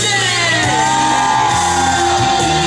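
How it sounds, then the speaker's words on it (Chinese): A large crowd at an outdoor evening music concert on Xiluo Bridge screams and cheers in a dense, sustained roar that fills the whole stretch. "全场再来一个尖叫声"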